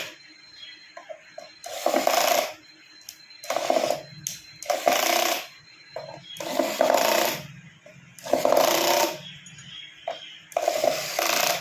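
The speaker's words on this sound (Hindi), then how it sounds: "सारे जो स्क्रू है इसको स्क्रू ड्राइवर की मदद से" Electric screwdriver driving screws into a 100 watt LED street light, several separate whirring bursts of a second or so each with short gaps between, close and fairly loud, no talking.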